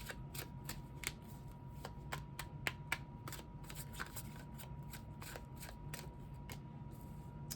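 Tarot cards are shuffled by hand in steady repeated riffles, each a sharp papery snap, close and fairly soft, continuing for several seconds without talk.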